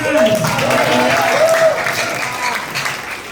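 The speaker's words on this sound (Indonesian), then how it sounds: "Tepuk tangan." A church congregation breaks into applause during a fellowship service, a close, full wash of clapping that fades slightly toward the end, with voices heard over it.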